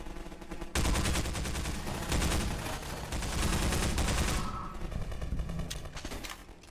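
Sustained rapid gunfire from a gun in the Half-Life 2 VR video game, dense loud bursts running almost continuously with brief uneven gaps.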